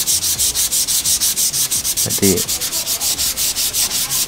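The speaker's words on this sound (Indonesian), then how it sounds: "setelah itu kita amplas. Karena ini medanya kecil, pakai manual saja." Steady rhythmic hand sanding with 400-grit sandpaper on a clear-coated wood finish, quick back-and-forth scratchy strokes repeating evenly throughout, close and fairly loud, with a brief clatter midway.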